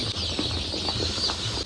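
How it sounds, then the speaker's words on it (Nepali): Young chicks, including golden mix and Kadaknath, on a small farm fill the air with a dense, continuous chorus of high cheeping, close and fairly loud with no speech. "हेर्न सक्नुहुन्छ चल्ला यसरी आउँछ है त।"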